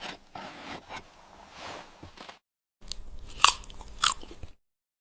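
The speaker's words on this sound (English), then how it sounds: "Chewing requires patience, as food slowly softens in the mouth." Frozen meat, fish or bread is chewed slowly, giving close, crisp crunching and biting sounds in short bursts separated by pauses, including a silent gap before a final cluster of sharper crunches.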